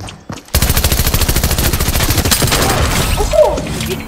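A machine pistol in Fortnite firing a fast, steady stream of rounds, loud and close, with evenly spaced rapid shots running for several seconds after a short pause.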